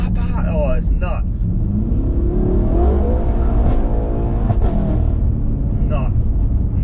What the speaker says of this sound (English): the sound of this one when you're like hitting the limiter